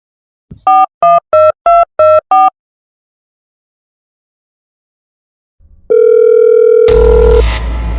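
A telephone call being placed: a rapid series of six loud beeps, a pause, then a steady call tone that breaks into a harsh burst of noise at the end.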